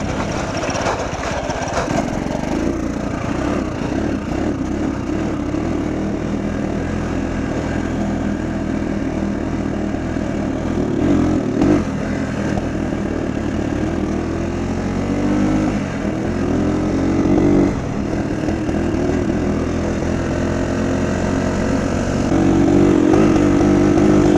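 An MV2 motorcycle engine running cold without a working choke, revving unevenly in a loud, continuous drone that rises and dips in pitch, close by, with no voices.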